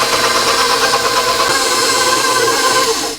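A stand mixer slowly kneads deep-dish pizza dough made with olive and canola oil, giving a steady, loud mechanical whir with rhythmic motor drone that runs continuously throughout, with no talking.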